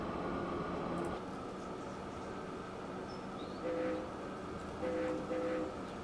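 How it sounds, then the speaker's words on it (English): A railbus in a railway simulation game sounds two short, tonal horn blasts over a constant rolling rumble of the train moving along the track. "Just honk the horn."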